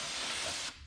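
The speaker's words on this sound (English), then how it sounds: "We are just using some good old-fashioned AutoZone, highly flammable brake clean, and we're just going to spray it on" A short burst of aerosol AutoZone brake cleaner spray onto a new brake rotor on a 2010 BMW 328xi E92, a steady close hiss that cuts off abruptly.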